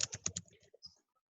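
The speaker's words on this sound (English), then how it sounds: "I really can't type today." Computer keyboard typing, a quick run of several close key clicks and then a few scattered taps that trail off into silence, faint.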